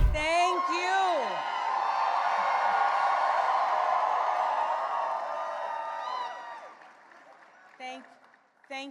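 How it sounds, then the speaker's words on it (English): A crowd of supporters at an election night event in Virginia roars with sustained cheering and whoops. The cheering fades toward the end as a voice begins speaking over it. "Spanberger took the stage at her election night event to deafening cheers from supporters"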